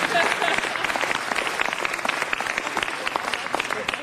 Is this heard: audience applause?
yes